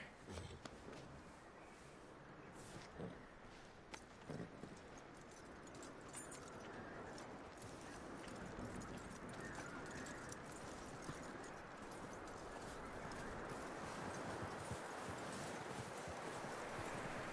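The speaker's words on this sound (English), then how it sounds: "That looks like a decent horse." Steady clip-clop of horse hooves in the video game Red Dead Redemption 2, plodding along at a walking pace, fairly soft, with a faint jingle of tack now and then.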